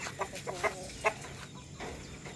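Backyard chickens kept on a small home farm give a few short, moderately close clucks over a steady low background hum, with no talk.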